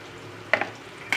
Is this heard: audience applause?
no